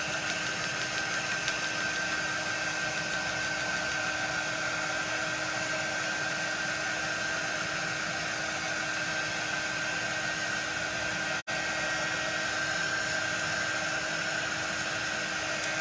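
A hair dryer blows steadily while drying a piece from a craft kit, a constant whirring motor hum with a high whine, close and unbroken apart from one tiny dropout, no talk.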